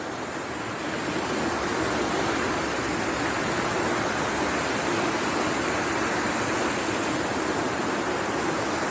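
Runoff water rushing toward a river, a loud steady broadband roar of flowing water that continues unbroken with no voices over it.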